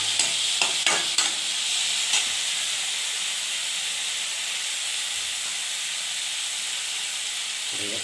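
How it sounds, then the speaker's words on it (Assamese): Chopped tomato sizzling in an oiled pan for an eggplant curry, a steady close frying hiss with a few quick scrapes of stirring at the start, then the sizzle continuing alone. "বিলাহীটো ফ্ৰাই হৈ গৈছে মোটামুটি।"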